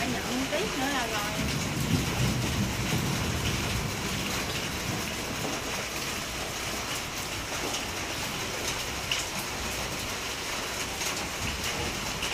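Steady rain falls outside a home in Vietnam, a dense continuous hiss with spattering on surfaces, loud and unbroken throughout, with some voices faintly underneath.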